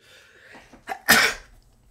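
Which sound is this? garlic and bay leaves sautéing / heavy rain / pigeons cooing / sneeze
sneeze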